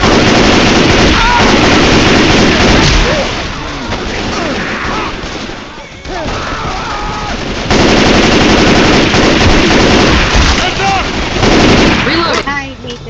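Sustained automatic gunfire and rapid shots from a video game fill the mix, loud and nearly continuous, with a brief lull midway before the firing resumes; a player's voice breaks in now and then over the shooting.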